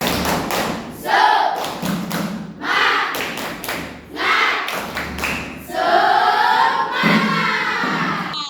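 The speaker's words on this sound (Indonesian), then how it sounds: "Biar tambah semangat, kita tepuk semangat dulu ya." Classroom of students doing the tepuk semangat clapping chant, a rhythmic pattern of sharp group claps and thumps in bursts, with shouted chant voices mixed in between the clap runs.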